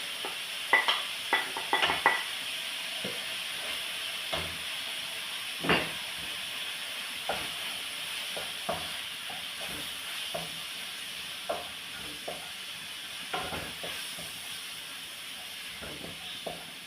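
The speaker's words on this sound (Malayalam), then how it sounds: "സവോള, ജിഞ്ചർ ഗാർലിക് പേസ്റ്റ്, എല്ലാ പൗഡറും ഈ എണ്ണയ്ക്കകത്തൊന്ന് കിടന്ന് വഴന്ന് കഴിയുമ്പോൾ അതിൻ്റെ കുത്തലൊക്കെ പോകും" Onion, ginger-garlic paste and spice powders (coriander, garam masala, chili, turmeric, pepper) sauté in hot oil, giving a steady soft hiss broken by frequent sharp clicks and scrapes of stirring throughout.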